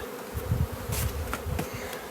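Bees buzz around an open beehive box, a dense close swarm hum with rising and falling drones and brief louder passes of individual insects.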